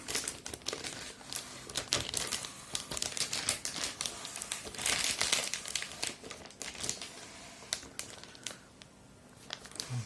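Continuous crinkling and rustling of a plastic bag, close up, with irregular sharp crackles throughout as a boxed unit is unpacked from it.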